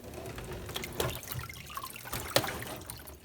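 Detergent water trickles and drips from the coils of a tipped Delonghi dehumidifier, a faint irregular dribble with a few louder splashes.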